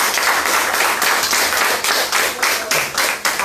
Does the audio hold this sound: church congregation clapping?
yes